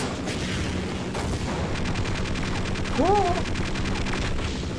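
Half-Life: Opposing Force gameplay with steady loud rapid gunfire and rumbling combat noise, a swooping whine near the middle, and a voice cheering briefly.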